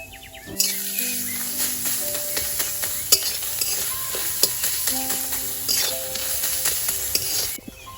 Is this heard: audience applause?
no